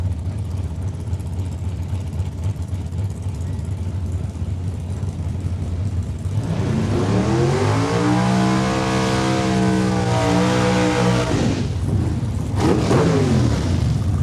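A 4-cylinder Bantam race car at a drag raceway idles with a low rumble, then launches hard, its engine revving up through rising, loud roaring sweeps before briefly dropping and climbing again.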